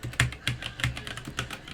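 Rapid clacking keystrokes on a worn-out, falling-apart computer keyboard, close and distinct, an uneven rhythm of about a dozen taps with no talk.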